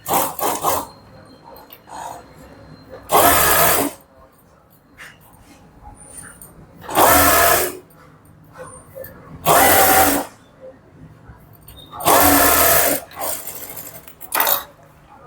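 A sewing machine stitching a blouse runs in four short bursts of a few seconds each, loud and close, with quiet handling noise between.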